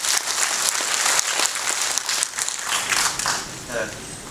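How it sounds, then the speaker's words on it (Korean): An audience at a county governor candidates' policy debate breaks into applause, a dense burst of clapping that swells and then thins out over a few seconds, close and loud. "예, 박수 부탁드립니다."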